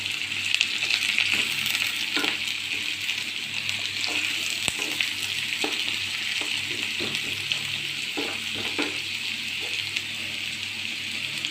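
Prawn roast masala sizzles steadily in a pan with curry leaves, a continuous frying hiss broken by repeated scraping knocks of a spoon stirring through it; no talking.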